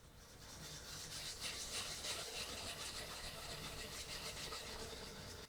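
Wood being polished by hand, a steady, soft rhythmic rubbing and scraping close up, continuous with gentle pulses of back-and-forth strokes and no talk.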